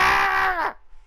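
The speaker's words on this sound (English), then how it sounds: "Is he going to recognize this scream?" A man's scream from Phoenix Wright: Ace Attorney, a Von Karma cry that starts loud and strained, then bends downward and cuts off sharply after under a second, with no talk over it.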